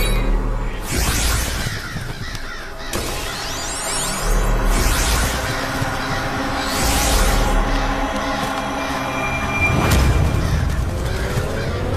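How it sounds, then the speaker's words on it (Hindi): Crows cawing in a Hindi animated film, several harsh calls repeating over a busy, loud soundtrack with swooshes and low booms mixed in. "ये सारे कौवे तो हमारे पीछे पड़ गए।"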